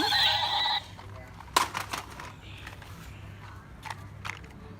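Toy-style horse neigh: one bright, loud whinny at the start, then a few short clattering clicks and thumps at a moderate level over a quiet hum.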